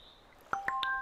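A phone chimes with a quick notification of three rising electronic tones in under half a second, fairly close and clear over a quiet background.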